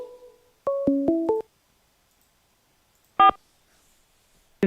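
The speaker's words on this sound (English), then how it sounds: "It's ringing. The prison phone is ringing." A prison phone line dials out with a quick run of stepped electronic tones, then after a pause gives one loud ring burst followed by the start of another, with no voices heard.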